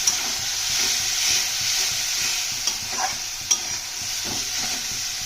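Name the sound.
sautéing spice paste with water in pan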